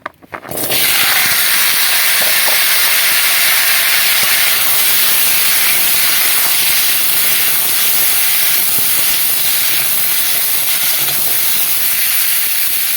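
Taro pieces drop into hot mustard oil in a pan for a Bengali taro curry, setting off a loud, steady hiss of sizzling that starts abruptly and carries on unbroken throughout, with no talking.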